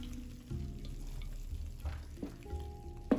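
Pasta tipped into a frying pan and stirred, a low sizzle with soft scraping and stirring, ending in a sharper clatter near the close; no voices.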